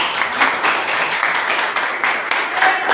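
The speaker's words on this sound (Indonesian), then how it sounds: "Tepuk tangan untuk Nandini" Classroom clapping for a student named Nandini, a small group of pupils clapping close by in a quick, fairly even patter that stays loud throughout.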